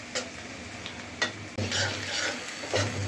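Spice paste fries in a pan while being stirred for a Bengali pabda fish and eggplant curry. A close, steady sizzle runs throughout, broken by a few scraping stir strokes, with no voices.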